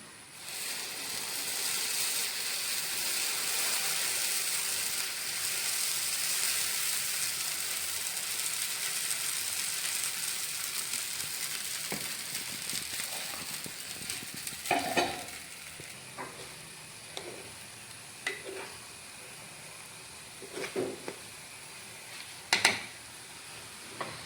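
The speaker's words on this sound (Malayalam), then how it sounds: "ദോശയുടെ മാവ് ഞാനിവിടെ കലക്കി വെച്ചിട്ടുണ്ടായിരുന്നു മാവ് ഒഴിച്ചു കൊടുക്കട്ടെ" Dosa batter poured into a hot pan sizzles in a loud, steady hiss that fills the first half, then thins out while scraping and clinking from a utensil punctuate the later part.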